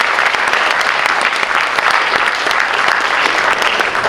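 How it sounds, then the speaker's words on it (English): A loud, full round of applause from an audience at an indoor senior awards ceremony, dense and sustained throughout without a break. "Maybe even a quick round of applause"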